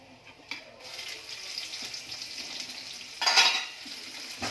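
Garlic sizzles and spits in hot oil in a pan, with dried chilli and onion going in, a steady close frying hiss that swells briefly with a louder burst of crackle near the end, no voices.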